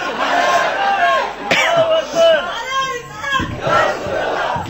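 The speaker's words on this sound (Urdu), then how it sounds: "ارے واہ، اس پہ بھی نعرے لگ رہے، لگا دو ذرا" An audience at a religious talk chants slogans loudly in unison. Several rising and falling shouted bursts come close up, with a sharp clap-like hit in between.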